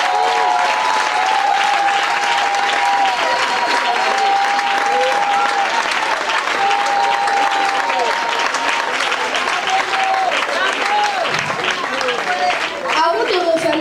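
Congregation in an Evir church applauding steadily and loudly throughout to acclaim the Lord, a dense continuous wash of clapping with crowd noise, while a sustained musical tone hums underneath.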